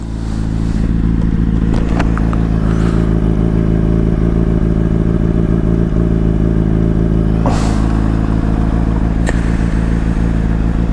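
A motorcycle rumbles loudly and steadily at close range on a city road, its engine droning throughout with brief clatters and faint rising whines from passing traffic.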